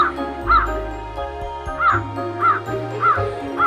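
A crow caws repeatedly at fairly regular intervals, several short harsh calls over a steady low background hum.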